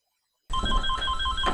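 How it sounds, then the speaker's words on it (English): A telephone starts ringing abruptly after a short silence, a steady electronic ringtone with repeating pulsed beeps, close and clear. "Oh, pick up the phone, pick up the phone, pick up the phone!"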